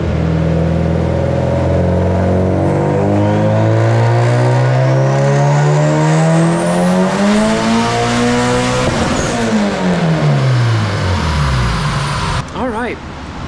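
A turbocharged Honda D16Y8 engine in an EK coupe runs on a dyno, revving in one long, loud pull that climbs steadily to a high scream, then drops off with a whoosh and settles back toward idle.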